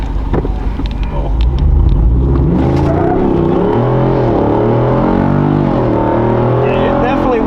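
A Jeep 392 V8 revs hard while off-roading over rough terrain, the loud engine rising and falling in pitch through repeated throttle bursts, with wind buffeting the microphone and a voice talking over it.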